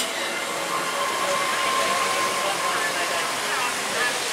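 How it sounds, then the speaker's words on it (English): Water rushes steadily at a theme park water ride at Alton Towers, a loud, even broadband hiss that continues unbroken with no voices over it. "I hear water"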